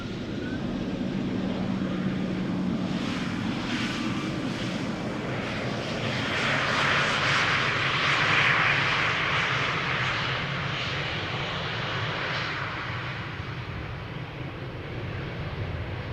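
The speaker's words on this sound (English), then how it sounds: "Embraer 190, having arrived from Helsinki, Finland after 2 hours and 22 minutes. And here too, a no reverser landing." An Embraer 190 jet lands at an airport with no thrust reversers, a steady distant engine roar and rushing whine that swells slightly midway and then eases, with no voices over it.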